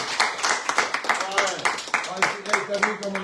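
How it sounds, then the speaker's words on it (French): Audience applause for a guest on a live French radio show broadcast from a bistro, steady close clapping with irregular peaks through the whole stretch. "Applaudissez la Blandine, quand même."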